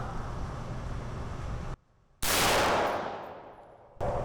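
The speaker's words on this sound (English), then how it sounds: "Safety off. First shot." A single firearm shot goes off loud and close, a sharp crack with a long rolling echo fading over about two seconds, following steady background noise that cuts out just before the shot.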